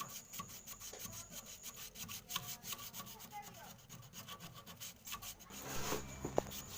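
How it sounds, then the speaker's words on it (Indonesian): Rhythmic rasping of 240 and 360 grit sandpaper scrubbing cement off a hard surface, repeated quick strokes close up, with a louder scraping burst near the end. "bisa kita amplas ulang sampai benar-benar bersih"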